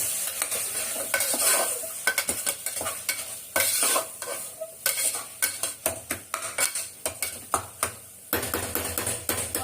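Ingredients for a home-style chicken biryani are stirred and sautéed in a pot: a spoon scrapes and knocks against the metal again and again in an irregular rhythm over a steady close sizzle, with no voices.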